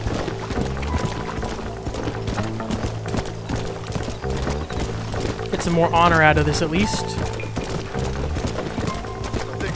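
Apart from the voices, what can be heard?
horse hooves and neighing in video game Red Dead Redemption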